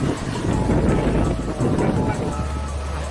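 Strong wind above 35 knots sweeping across a harbour where heavy waves hit a port bridge, a loud steady roar with gusting buffets against the microphone throughout.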